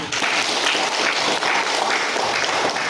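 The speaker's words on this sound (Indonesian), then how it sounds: "Tepuk tangan." Applause from students in a classroom counselling lesson on managing emotions, a dense, steady patter of many hands clapping close by for about three seconds without a break.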